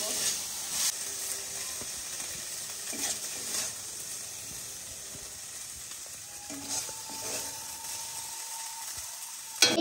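Chicken cooks in mustard oil in a kadai with a soft, steady sizzle. Scattered metallic clicks and scrapes from utensils break through the frying, and the sound stays fairly quiet throughout.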